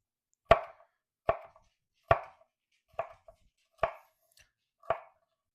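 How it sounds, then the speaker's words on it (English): A knife chopping pepper into quarter-inch pieces on a board, six crisp, evenly spaced cuts about a second apart, close and clear with silence between. "With the pepper, I just like to cut it kind of"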